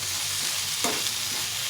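Tomatoes and chickpeas fry in a pan with a pinch of salt, giving a steady close sizzle with one brief stirring scrape partway through, and no one speaks.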